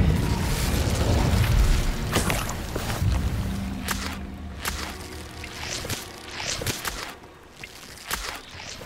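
Incendio fire spell cast in Hogwarts Legacy, a deep whooshing burst of flame opening loudly, then fading into scattered sharp cracks and pops of combat over several seconds.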